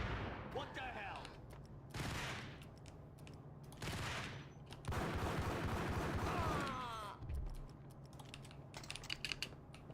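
Gunfire from the Max Payne Remastered video game, heard as loud bursts of shots that run into one another over several seconds, with a voice talking in the background.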